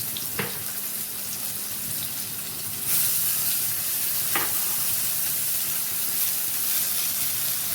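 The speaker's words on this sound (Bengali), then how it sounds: "এবার এই গরম তেলে একবার করে একটু পেঁয়াজ কুচি একটু টমেটো কুচি দেবো" Chopped onion and tomato hit hot oil in a pan after fish frying, giving a loud, steady close sizzle that swells partway through as more goes in, with a few sharp clinks and no speech.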